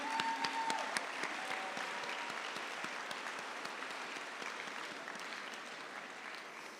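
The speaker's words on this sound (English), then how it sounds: "let's give a round of applause for them" An audience applauding at a recognition celebration, steady, even clapping from a roomful of people that carries on throughout, fairly soft and distant.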